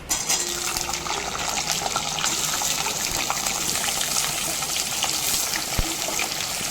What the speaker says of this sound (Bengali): কেটে রাখা আলু আর কুন্দ্রিগুলো তেলের মধ্যে দিয়ে খুব ভালো মতো করে লাল করে ভেজে নেবো